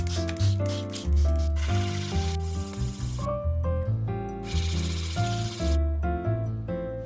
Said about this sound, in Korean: 아래 사포질 해줄게요.